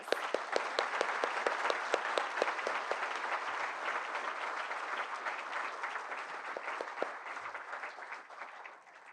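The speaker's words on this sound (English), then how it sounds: "If we can give them a round of applause." A banquet audience at a golf Hall of Fame ceremony claps for inducted members, a moderately distant round of applause with sharp individual claps that gradually tapers off.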